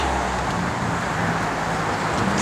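Engine of a 1969 Chevrolet C10 Pro Street truck on Hoosier Pro Street radials, a steady loud low rumble running throughout with no talk over it.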